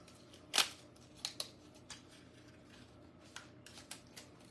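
Crafting tape being pulled and torn in a few sharp crackly bursts, then lighter scattered rustles and ticks, close and fairly quiet, as a toy soldier Christmas planter is prepared for tracing.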